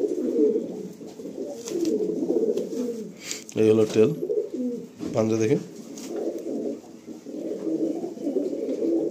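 A lively pigeon held in the hand gives two loud, rolling coos close by, while someone talks over it throughout with a soft background murmur.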